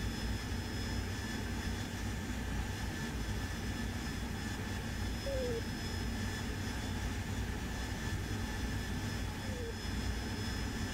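Steady, unbroken roar of an AV-8B Harrier jet engine during a multiplayer sortie over the Syria map in the DCS World flight simulator, loud and constant throughout with no talk.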